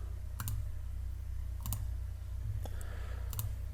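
Sharp mouse clicks on a computer in an office, a few quick, dry clicks spaced irregularly over a faint steady hum.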